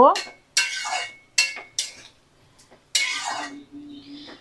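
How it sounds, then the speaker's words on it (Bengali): Greens with stalks stirred in a metal pot after water is poured in, a few sharp scraping and clanking strokes of a utensil against the pot, separated by pauses, close and fairly loud. "জল দিয়ে দেখো আমি নাড়াচাড়া করে নেব"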